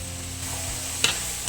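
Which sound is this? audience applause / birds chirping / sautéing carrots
sautéing carrots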